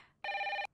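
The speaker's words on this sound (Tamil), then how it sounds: "ஃபோன் அடிக்குது" A telephone bell gives one short, clear electronic ring burst, moderately loud, alone in a quiet room.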